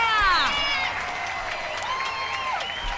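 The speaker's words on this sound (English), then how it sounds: "Irina is clapping for her, clapping to the crowd. People are standing up, ovation." A crowd at a pickleball gold-medal match applauds and rises in a standing ovation, with steady dense clapping and cheering, whistles gliding over the top, and voices mixed in.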